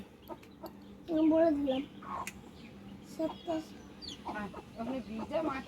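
A mother hen with chicks clucks repeatedly close by while a person talks over them, the clucks coming in short bursts throughout.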